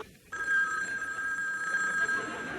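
A telephone bell rings continuously and loudly after a brief quiet moment, its tone steady and unbroken throughout.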